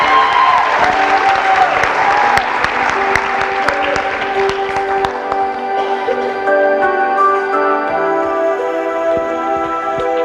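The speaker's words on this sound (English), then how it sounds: "A big round of applause to all of our contestants." An audience applauds steadily for girls in a glass pageant, a dense, loud wash of clapping that carries on with a sustained musical tone behind it and gradually thins out toward the end.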